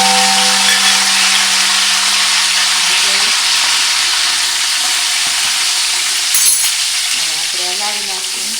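Curry leaves dropped into hot oil crackle and sizzle loudly and steadily in a pan, a continuous bright hiss with a few faint tonal sounds and clatters in the background.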